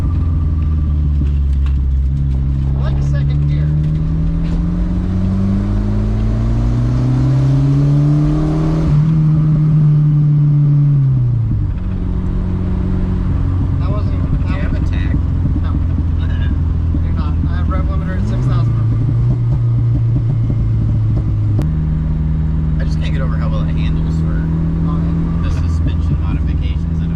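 Boosted Volvo wagon pulling hard in second gear, the engine note climbing steadily under heavy load, then shifting and building again, a loud in-cabin rumble with people talking over it.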